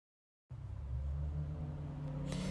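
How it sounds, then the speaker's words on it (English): A car passes outside, its low rumble swelling in after a moment of silence and holding steady at a faint, distant level. "excuse the car noise next outside."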